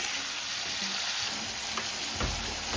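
Oil fries in a pan for a spicy chicken curry, a steady close hissing sizzle with a soft stir or thump near the end.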